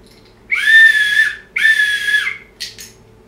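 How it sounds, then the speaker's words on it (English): A handheld whistle blown from a desk gives two loud, shrill blasts about a second long each, then a short third chirp, close and clear against a quiet room. "Something else that I have on this table is a whistle."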